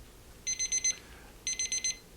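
A kitchen timer alarm goes off in two bursts of four rapid high beeps each, clear and fairly close, with a short pause between bursts and no talking.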